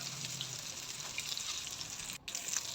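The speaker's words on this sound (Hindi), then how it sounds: "एक साइड अच्छे से हमारी फ्राई हो चुकी है।" Gram-flour-coated potato tikkis fry in a pan over a medium flame, a steady, close sizzle with soft crackles and a brief dip near the end.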